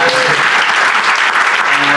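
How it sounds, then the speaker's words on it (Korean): Audience applause fills an indoor school admissions information session, a dense, steady wash of clapping from a crowd sustained evenly throughout. "박수 한번 부탁드립니다"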